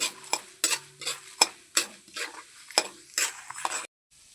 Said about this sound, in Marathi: त्यात शेंगदाणे आणि डाळव टाकू. छान परतून घेऊ.